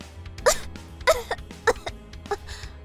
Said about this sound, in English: she threw up water and coughed a lot